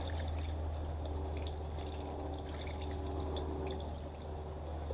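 A steady wash of water pouring onto potted soil, a continuous rushing trickle with no talking.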